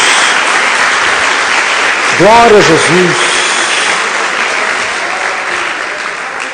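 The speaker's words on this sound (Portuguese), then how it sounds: "Dê uma salva de palmas a Jesus." A church congregation claps together in a dense, steady wash of applause, with a voice calling out a short phrase of praise over it midway.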